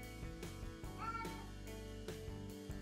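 A cat meows a few times at a closed door indoors, its short wavering cries rising above steady game music and background hum.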